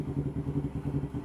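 A Yamaha R25 motorcycle engine, freshly assembled and tuned up, starts with a fast, even low chugging pulse that stays fairly faint and lasts only a moment.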